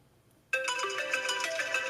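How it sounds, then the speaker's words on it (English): An iPhone 11 ringtone starts abruptly after a short quiet moment and plays a bright, chiming melodic pattern, clear and fairly close, with no talking. "Let's go ahead and check ringtones."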